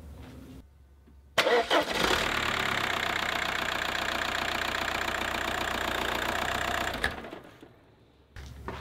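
A VW Passat engine cranks and catches during a power steering fluid change, jumping from quiet to a loud, steady idle that runs for several seconds before cutting off, with no one speaking.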